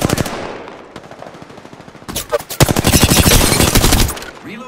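Rapid automatic gunfire in a shooter video game, loud sustained bursts that start, pause briefly, then resume in a dense rattling volley with no voices.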